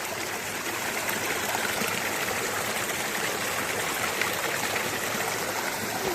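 A small waterfall stream in Auvergne, France, flows with a steady, loud rushing and splashing that holds constant throughout, with no voices over it.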